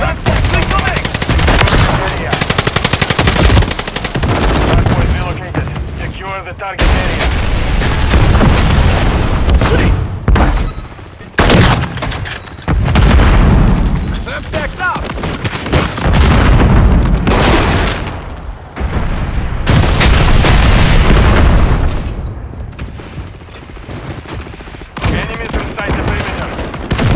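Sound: gunfire and explosions in the video game Call of Duty MWIII

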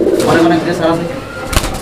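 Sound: pigeons cooing

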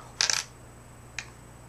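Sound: quarter coin dropping

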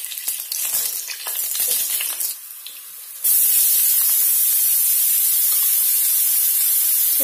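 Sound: green chillies frying in oil

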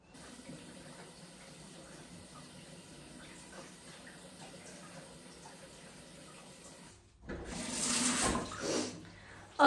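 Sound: water running while washing off a face mask

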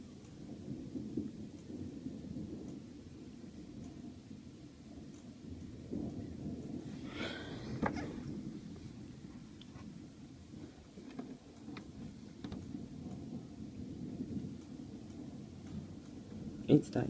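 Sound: heavy thunder during thunderstorm

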